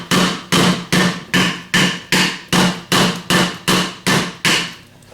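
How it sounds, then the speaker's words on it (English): A hammer taps the outside diameter of a Denso alternator housing, eleven sharp, evenly spaced metallic knocks, each ringing briefly before the next, close and loud with no talking. "Then take a hammer and tap the outside diameter to loosen things up."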